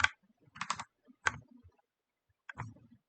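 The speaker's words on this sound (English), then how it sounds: "Am I hitting the wrong keys?" Someone types on a computer keyboard in short, close bursts of clicking keystrokes with quiet gaps between them, and no voices are heard.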